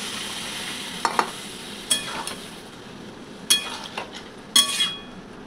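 Fried shrimp being stirred into a pointed gourd curry in a pan: soft sizzling beneath a handful of sharp spatula scrapes and clinks against the metal, spaced about a second apart.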